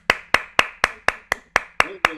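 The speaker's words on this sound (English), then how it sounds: "Let's give her another round of applause." Single person clapping slowly and evenly, about nine distinct claps close by, at a concert, with a faint voice briefly underneath near the end.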